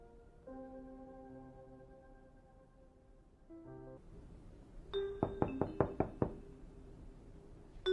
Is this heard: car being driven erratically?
no